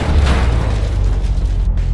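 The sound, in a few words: house explosion sound effect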